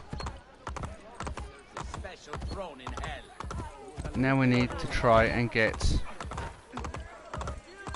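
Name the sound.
horse hooves clip-clopping in Assassin's Creed Brotherhood video game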